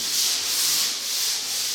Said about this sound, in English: now I'm going to give it a light 220 grit sand so we can put our second coat down